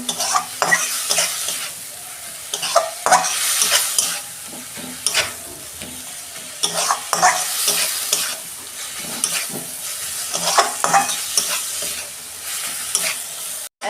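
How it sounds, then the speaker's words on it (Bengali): Coriander and cumin powder spice paste fried and stirred in a pan, a steady close sizzle with repeated scraping strokes of a spatula, continuous and fairly loud with no talking. "এইটা আমি ভালো করে 2 মিনিট মতন ভালো করে কষে নেব।"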